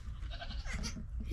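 A baby goat bleats in short, wavering cries close by over a steady low background rumble, with no talking.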